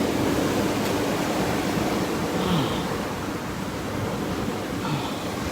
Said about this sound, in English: The waves are very strong.